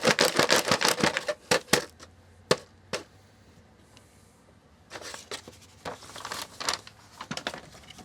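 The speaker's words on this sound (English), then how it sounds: "Shake out all the nooks and crannies of the bag." Dusty Colorado pay dirt shaken out of a bag, heard as bursts of gritty rustling and patters in two busy stretches separated by a quieter pause.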